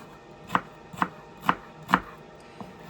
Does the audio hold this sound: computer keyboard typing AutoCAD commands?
no